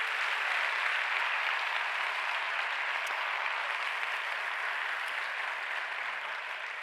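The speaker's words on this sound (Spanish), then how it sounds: "Por eso pido un aplauso para vosotros," An audience at an education conference talk claps together in sustained, dense applause, steady and full from start to finish and easing off slightly toward the end, with no voices on top.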